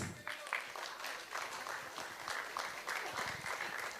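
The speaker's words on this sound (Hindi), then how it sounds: "जोरदार तालियां हो जाए गाइस।" An audience at a Bhojpuri song launch event claps in sustained, dense applause of many hands, steady and fairly loud throughout the short stretch.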